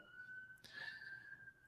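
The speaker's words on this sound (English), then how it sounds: "Sorry about the sirens" A distant siren holds a steady wailing tone, quiet and continuous, with background noise and a brief bump midway.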